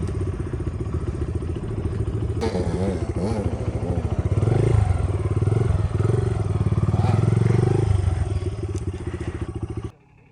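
Dirt bike engine revving loud and close while riding on sandy ground, with a steady roar that rises and surges in pitch midway, then cuts off abruptly near the end.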